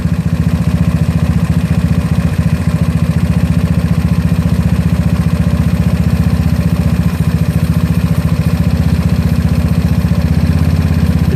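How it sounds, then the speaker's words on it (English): A GY6 scooter engine fitted with an OKO PWK 30mm carburetor runs steadily at a raised, roaring rev, a loud continuous close-up drone held for the whole stretch with no talk. "Now it's roaring again a little bit."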